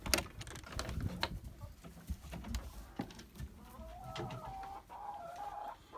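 Chickens clucking inside a main coop on a farm, a busy mix of scattered clucks and higher squawks, fairly faint and continuous with no talking.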